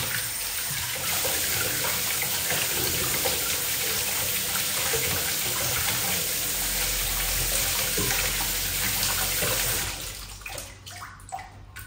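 Fresh cherries are rinsed in a strainer under a steady, loud stream of running tap water that hisses on for about ten seconds, then stops and leaves a few drips and splashes.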